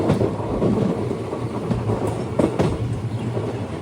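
Nagaland Express train running on rails between Guwahati and Dibrugarh, a steady loud rumble with repeated clickety-clack wheel beats and occasional sharper clanks, heard up close from inside the moving train.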